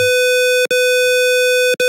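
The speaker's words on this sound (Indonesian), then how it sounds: "seperti ini suara dari frekuensi buzzer 500 dengan delay 1 detik." A buzzer driven at 500 Hz in an IoT lab exercise gives a loud, steady electronic tone that cuts out briefly twice, about a second apart.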